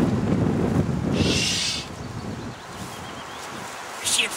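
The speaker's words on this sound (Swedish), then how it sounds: "Det blåser mycket till det." Wind blowing outdoors on a nature outing, a steady broadband rush with gusts, loudest in the first two seconds and easing to a lower background roar, with brief rustling bursts.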